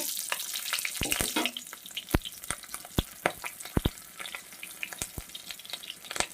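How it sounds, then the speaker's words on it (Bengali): Bay leaf, radhuni, cumin and slit green chillies tempering in hot oil for a bottle gourd and prawn dish, a soft sizzle broken by many sharp crackles and pops at irregular intervals, no speech. "তো ফোড়নটা ভাজা হয়ে গেছে"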